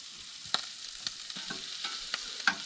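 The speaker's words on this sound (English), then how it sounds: "I think now we're gonna add onions and garlic." Onions and garlic fry quietly in a pan, a soft steady sizzle broken by a few sharp clinks of a utensil stirring them, heard close with no talking.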